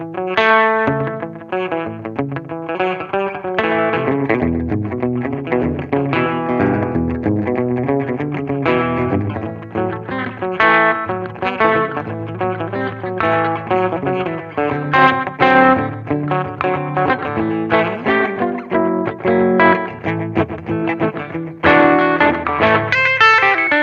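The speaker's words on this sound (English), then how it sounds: "the last option sounds to me like vibrato with reverb." Guitar played through a Fender Super Champ XD amp with its vibrato-plus-reverb effect: wavering, pulsing chords and single notes ring with a washy tail over roughly 24 seconds, alone and up front.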